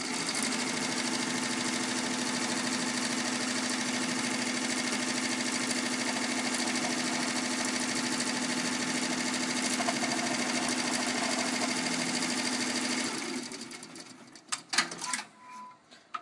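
An embroidery machine runs a steady, fast mechanical stitching hum for about thirteen seconds as it sews the placement stitch for a ladybug applique, then stops and leaves a few faint clicks and handling noises.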